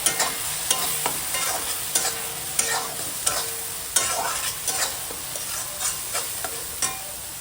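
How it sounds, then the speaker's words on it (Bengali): Spice paste and tomato paste fry in a pan for a soya chunk curry, a steady sizzle punctuated by regular scraping and stirring strokes from a utensil, roughly one every half second, with no talk. "টমেটো বাটা দিয়ে আবারও কষিয়ে নেব খুব ভালোভাবে।"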